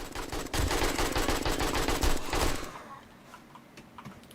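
AK rifle fired in the video game 7 Days to Die, a loud rapid automatic burst lasting about two seconds that cuts off into quieter background.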